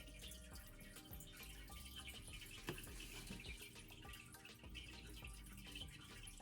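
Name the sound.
water draining from a repotted houseplant in a sink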